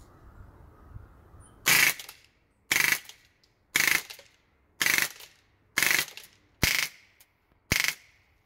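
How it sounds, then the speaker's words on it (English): An Umarex Steel Storm BB gun fires at a target in seven sharp, evenly spaced bursts, each one loud and close against a quiet background. "that was 30 rounds down range. Very high fire rate."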